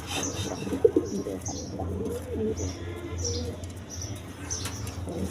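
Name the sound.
Lahori pigeons cooing in coop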